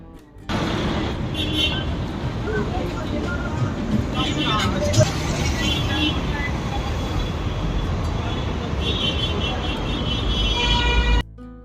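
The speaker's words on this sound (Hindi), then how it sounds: "दिल्ली का ट्रैफिक ना, अभी 10 बजे से ऊपर का टाइम हो गया है, लेकिन यहाँ पर दिन ही है पूरा, इतनी ज़्यादा ट्रैफिक है।" Heavy night traffic on a Delhi road, with a continuous engine rumble, passing vehicles and occasional horn toots, and a voice talking over it throughout.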